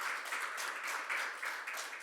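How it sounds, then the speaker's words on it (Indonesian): A church congregation at a Sunday service in Perth applauds with steady, soft clapping that continues evenly across the short moment, heard at some distance. "Kita kasih tepuk tangan buat orang ini."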